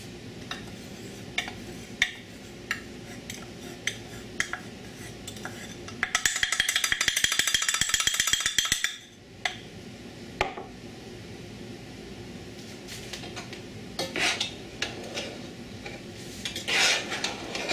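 Mulberries and flour stirred in a pan, with a spoon clinking and scraping against the metal in scattered knocks and one sustained stretch of dense, rapid scraping in the middle.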